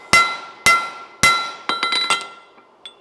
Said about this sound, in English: Hammer the bulge down.